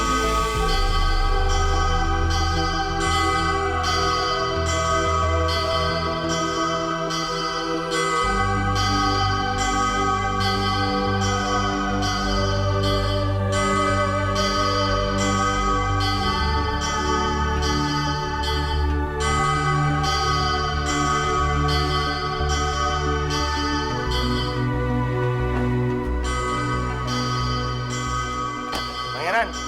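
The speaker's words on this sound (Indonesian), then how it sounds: "Itu kayak suara bel bunyi kenceng banget" A loud, resonant bell rings out as an announcement, struck in a steady repeating rhythm with long sustained ringing overtones filling the whole stretch.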